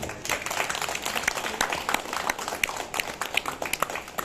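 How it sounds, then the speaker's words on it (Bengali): Scattered clapping from a theatre audience at Faridabad Kalibari after a stage play, fairly faint and uneven, with individual hand claps standing out over the ongoing applause. "দর্শকবৃন্দের জন্য আরেকটা হাততালি হওয়া উচিত।"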